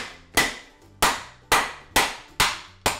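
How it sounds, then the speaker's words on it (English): Toffee cookies sealed in a bag and pounded by hand in a kitchen: six sharp, loud smacks at a steady, slightly uneven pace about half a second apart, each a crisp slap with a short crumbling tail, with no talking. "I'm gonna stick these all into a bag and then pound out my frustration"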